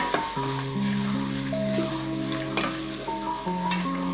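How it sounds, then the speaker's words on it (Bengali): Chopped onions fry in oil with bay leaves and cinnamon sticks for haleem, a steady close sizzle under tonal background music, with occasional stirring taps. "এটা আমি ভালো করে একটু বেজে নেব পেঁয়াজটা সোনালি কালার করে আমি বেজে নেব"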